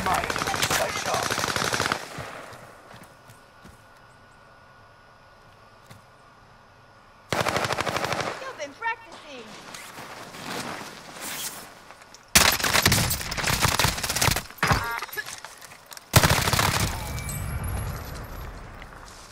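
Loud machine-gun fire and gunshots in a video game shooter, coming in several long rapid bursts separated by quiet gaps, with a voice briefly heard between them.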